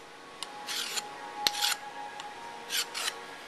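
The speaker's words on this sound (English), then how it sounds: "Okay, now I have a burr on side 3. I'm going to deburr that." A deburring tool scrapes the edge of a machined metal block in a few short rasping strokes with a sharp tick between them, close and quiet over a faint steady shop hum.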